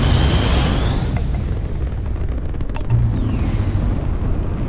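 Spaceship turrets fire during a Starfield space battle, producing a dense, loud, continuous roar of booms and bursts with a few sharp cracks and a descending whoosh, and no talking.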